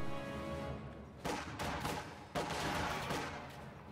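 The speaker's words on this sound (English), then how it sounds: "Sniper takes a shot at these conscripts." Sniper fire from a strategy war video game, with shots aimed at enemy conscripts along a broken front line; sharp reports crack out against steady background battle noise, with a couple of loud hits standing out.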